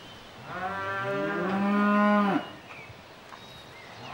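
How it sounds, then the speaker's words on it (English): A single cow on a farm at feeding time lets out one long, loud moo lasting about two seconds, close by and clear, with quiet surroundings before and after. "The cows really love their food."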